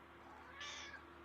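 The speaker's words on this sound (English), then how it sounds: "He's my grumpy old man cat." An old male pet cat gives a single short, faint meow, brief and slightly distant against a quiet indoor background.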